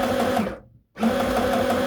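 A sewing machine forward-stitches a seam in a red cotton skirt, running in a close, steady whir that stops briefly for a split second and then resumes.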